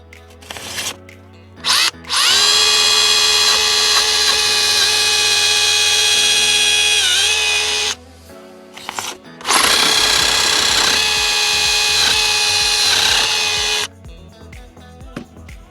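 A power drill bores a hole for an EJOT hybrid insulation anchor (metal nail with molded plastic head) in two long, loud, steady whining runs, each starting with a spin-up and separated by brief pauses and clicks.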